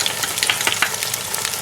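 Peas being stirred into rice in a pot for matar pulao, quick close scraping and grainy rustling strokes over a soft steady hiss.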